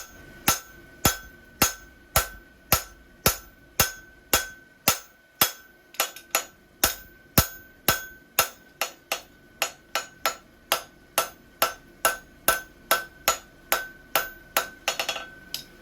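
Steady hammer blows on metal bar stock being flattened for a welded euro bar build, about thirty sharp ringing strikes in an even rhythm, loud and close with no talking.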